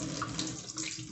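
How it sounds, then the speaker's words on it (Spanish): Water streams steadily from a freshly repaired kitchen mixer faucet, a continuous close hiss and splash into the sink with no pauses. "De esta forma está saliendo el agua."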